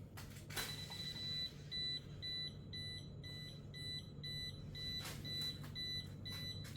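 A DCA AFF02-12L laser level with its self-leveling feature active gives off a repeating high electronic beep at a steady quick rhythm, faint under low room noise and occasional handling clicks.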